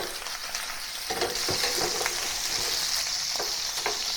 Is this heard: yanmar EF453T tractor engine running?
no